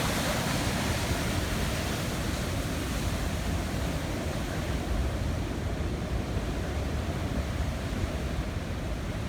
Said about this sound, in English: There we're looking at the waterfall.